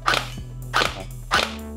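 A TG G36C gel blaster toy gun fires three sharp, snappy shots at a steady, unhurried pace, each a loud close crack with a short tail, with a faint hum underneath and no talking.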